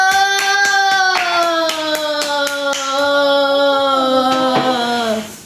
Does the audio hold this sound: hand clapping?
yes